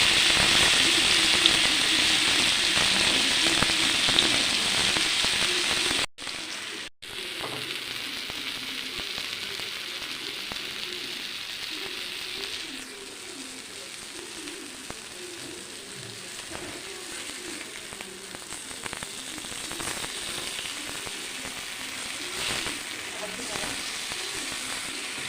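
Fish pieces fry in a couple of spoons of hot oil on a heated pan, giving a steady close sizzle that is loud at first, then settles into a softer, continuous crackle with no talking.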